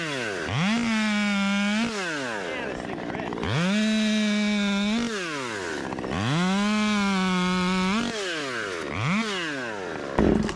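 A 39cc top-handle chainsaw runs nearby, cycling through several rev-ups to a steady high whine and dropping back to idle between bursts, loud with no talking.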